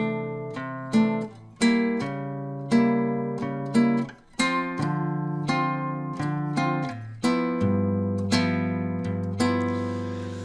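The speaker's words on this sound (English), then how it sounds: "I'm going to make the syncopation all through the chords, okay, all through the progression." Bossa nova rhythm on a guitar, with syncopated chords played over a chord progression and each chord landing ahead of the bass note; the strums ring clearly and steadily with no talk.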